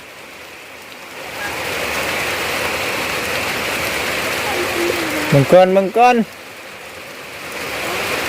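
Rain falls steadily outdoors as a continuous hiss, and a person briefly calls out over it partway through.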